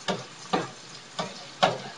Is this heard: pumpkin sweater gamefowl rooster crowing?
no